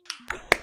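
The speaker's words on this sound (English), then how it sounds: "Give Eric a round of applause for that awesome tech talk." Three sharp, separate claps over a video call after a tech talk on test driven development, spaced about a fifth of a second apart, thin and close, with no crowd behind them.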